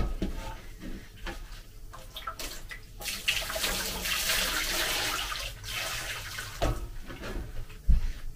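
Tap water runs in uneven bursts while hands are washed, splashing and gurgling at close range, louder in the middle stretch and then breaking into short spurts with small knocks.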